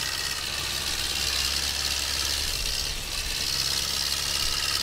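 HMT 5911 tractor engine in Farming Simulator 22, a steady loud chugging idle with a dense broadband hiss, briefly dipping once before settling back, with no voices.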